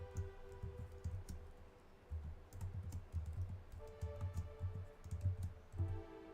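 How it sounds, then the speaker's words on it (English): Someone types on a computer keyboard at close range, a steady patter of soft key clicks with brief pauses, a faint low hum underneath and no talking. "Let me type it."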